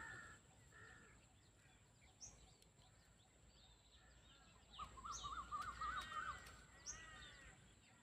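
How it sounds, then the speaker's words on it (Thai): Several crows caw from a distance outdoors, with a cluster of harsh calls in the middle and other birds chirping faintly over a quiet background. "กาเต็มเลยครับ"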